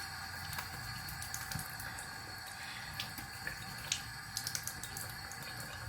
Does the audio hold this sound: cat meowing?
no